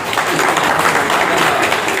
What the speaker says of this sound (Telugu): పెద్దన్న భరత్ భూషణ్ గారికి అందరూ చప్పట్లు కొట్టడం సార్